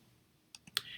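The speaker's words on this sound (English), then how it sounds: "I click on the transform button" A few sharp mouse clicks at the computer, clicking the transform button in image-editing software, three quick quiet clicks close together, alone in a quiet room.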